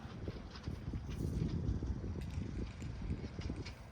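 Steady wind buffets the microphone on a cold golf course blowing at around 15 miles an hour, a continuous low rumbling gust with no speech.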